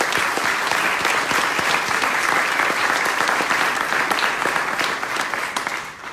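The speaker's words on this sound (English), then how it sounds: "So please give yourselves a round of applause." Dense, sustained applause from a large crowd at a grassroots political rally in Rainier Beach, steady and loud throughout before tapering slightly at the end, with no talk over it.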